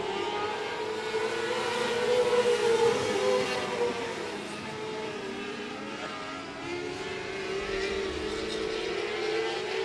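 Stock race cars lapping the oval at 105 Speedway, their engines droning loudly and continuously, rising and falling in pitch as cars pass through the turns and traffic, with no talk over them.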